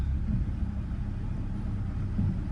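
A square-body Chevy truck engine runs steadily with a slight rattle, a continuous low rumble close to the listener, with no voices.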